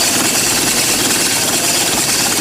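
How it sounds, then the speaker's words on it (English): A model engine running on compressed air gives a loud, continuous hissing swish with rough, rapid popping pulses layered through it, close and steady throughout with no talk. "Now you hear the swishing sound of the air on this side. You hear a popping sound on this side."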